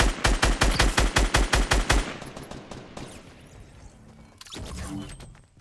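A rapid burst of automatic gunfire in Fortnite, about a dozen evenly spaced loud shots, then a fading echo and another heavy blast near the end.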